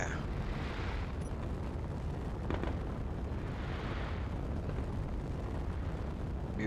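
Modded Space Engineers fireworks burst in a dense, continuous barrage, with layered booms and crackling pops overlapping throughout, loud and steady with no pauses.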